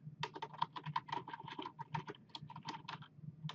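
Fingers type on a computer keyboard while text is entered into spreadsheet cells, producing a quiet, steady run of crisp key clicks at an uneven pace, with no talking.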